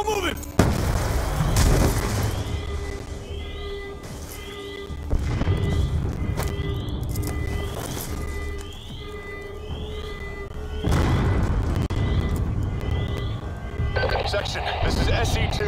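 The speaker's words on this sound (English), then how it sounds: "We're monitoring multiple explosions across the facility." Explosions in the Call of Duty Black Ops 2 campaign: heavy low booms and rumbling blasts recur throughout, mixed with game music and radio chatter, with voices talking over much of it.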